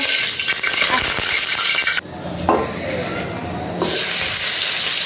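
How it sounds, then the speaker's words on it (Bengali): Catla fish heads frying in a pan, a loud continuous sizzle with stirring and metal clatter, dipping briefly mid-way before the hiss returns at full strength. "কাতল মাছের মাথা মাথাগুলো ভেজে নিচ্ছি"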